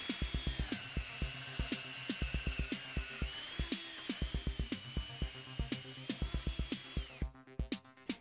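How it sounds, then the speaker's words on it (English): A drill whines continuously over a rapid series of sharp knocks and thumps as it bores a row of holes in a wooden door for a lock mortise, a close, busy mechanical clatter without any talk. "Then make a series of drill holes along the line."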